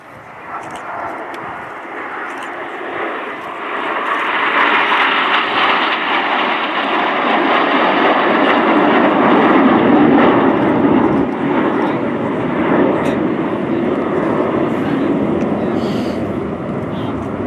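RAF Red Arrows jets flying a formation aerobatic display at RIAT 2024, a loud, sustained roar of jet engines swelling and holding overhead with a commentator talking throughout.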